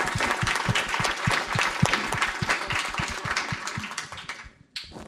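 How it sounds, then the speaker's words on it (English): A conference audience breaks into applause, brisk, fairly close clapping that stays dense and rhythmic before thinning out and stopping abruptly. "So if I could ask, big applause for everybody."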